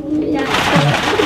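Pigeons cooing during an unboxing of three pairs of pigeons, a soft low throaty coo repeated over steady background noise, close by.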